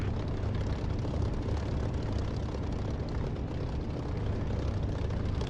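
Spitfire Merlin aircraft engine in the DCS flight simulator game, a loud steady droning roar heavy in low rumble, continuous and unchanging throughout with no voices over it.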